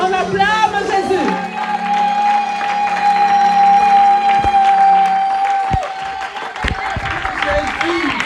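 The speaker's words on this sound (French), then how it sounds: "On acclame Jésus" Church congregation cheering and applauding Jesus, a sustained wash of clapping and whoops beneath a held organ or keyboard tone, with shouting voices rising toward the end.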